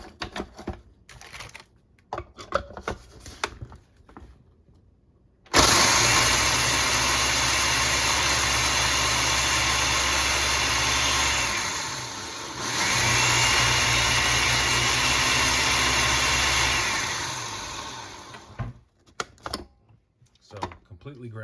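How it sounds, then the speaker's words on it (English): A food processor grinds a sleeve of saltine or Zesta crackers in a loud, steady roar lasting about thirteen seconds, dipping briefly midway, with quieter clatter before and after. "now she is about to grind up a sleeve of crackers, and you can either use the Zesta crackers or saltines"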